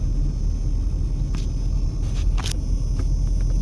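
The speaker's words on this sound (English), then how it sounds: "Here on a Saturday night on the Las Vegas Strip. And the traffic is brutal." Heavy, slow-moving traffic on the Las Vegas Strip on a Saturday night, a constant low roadway rumble with a few brief passing sounds.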